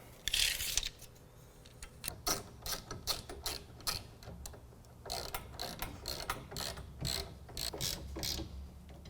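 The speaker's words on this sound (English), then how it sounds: "we can tighten down these bolts to hold the load bar to the uprights" A hand ratchet tightening the bolts that fix a load bar to the uprights on a BAKFlip CS tonneau cover rack, rapid clicking pawl bursts in repeated strokes, close and clear with no talking.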